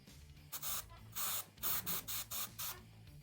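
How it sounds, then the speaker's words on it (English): Short bursts from a spray can coating a small miniature figure, about eight quick hisses in an irregular rhythm, close and fairly soft with no talking. "I just sprayed"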